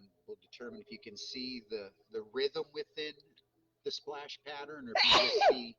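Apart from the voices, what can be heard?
sneeze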